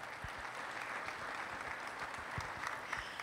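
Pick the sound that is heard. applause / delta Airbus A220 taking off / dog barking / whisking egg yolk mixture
applause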